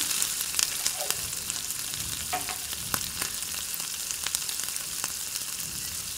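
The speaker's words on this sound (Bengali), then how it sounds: "ফোড়নে একটু কালো জিরে দিয়ে নিচ্ছি" Black cumin seeds sizzle in hot oil as a tempering for Katla fish head chachori, a steady crackling fry with scattered sharp pops, close and continuous.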